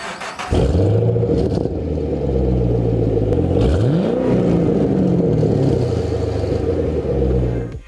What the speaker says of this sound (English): V8 and it sounds awesome.